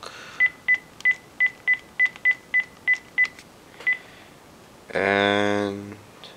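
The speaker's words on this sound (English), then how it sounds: "pick up the phone" Telephone keypad dialing tones while calling a phone to test ringtones on an LG Neon: about ten short, evenly spaced beeps, clear and close, followed by a longer, louder tone.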